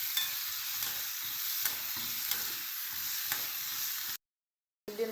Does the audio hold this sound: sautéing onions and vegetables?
yes